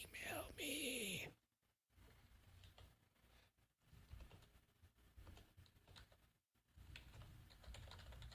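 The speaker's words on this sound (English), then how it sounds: "I need to learn how to talk and type at the same time." Soft computer keyboard typing patters along in quick irregular bursts, faint and close, with a brief louder sound at the start and short gaps of near silence.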